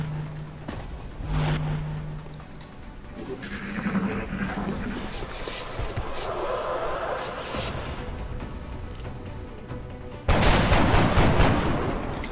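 Gunfire from the video game XCOM: Enemy Within crackles in several loud bursts, the last and heaviest volley near the end, with rumbling game effects between the shots.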